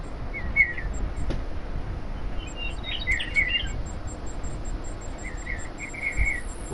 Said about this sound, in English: And that bird's loud.